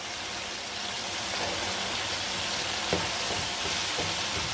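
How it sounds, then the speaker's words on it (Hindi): Peas sizzling in ghee with cooked masala in a pan for a mixed vegetable pulao, a steady, dense frying hiss with a few soft stirring scrapes, close and continuous without any talk. "मटरों को हम 5 मिनट अच्छी तरह से भून लेंगे।"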